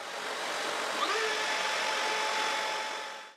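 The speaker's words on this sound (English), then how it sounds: "The hose from my shop vacuum fits in there quite well." A shop vacuum roars steadily with its hose hooked up to a homemade router table, a constant close broadband whoosh that holds level and fades out at the very end.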